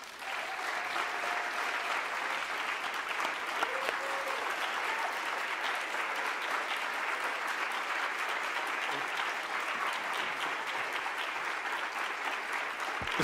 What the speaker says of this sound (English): Please join me in a warm applause for the 2018 Alan Leskoll Awardees